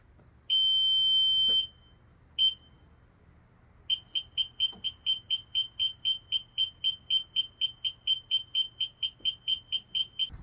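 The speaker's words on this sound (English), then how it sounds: "Okay, I'm going to give you a quick demonstration of how the buzzer works now." A magnetic-switch electronic buzzer on a game-show prize wheel sounds a long steady tone, then a short burst, then a rapid run of regular sharp beeps, loud and close with no talking.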